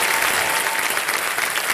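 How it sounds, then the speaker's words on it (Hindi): Loud, dense applause from a studio audience at a televised Hindi quiz show, steady and unbroken throughout with no talking over it. "ओके, बहुत बहुत स्वागत एक बार फिर जोरदार तालियों के साथ।"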